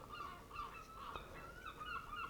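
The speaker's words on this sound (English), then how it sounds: "You can really hear the seagulls now because I've opened the window." Seagulls calling near a beach, heard through an open window as a steady run of faint, somewhat distant overlapping squawks against a constant outdoor hiss.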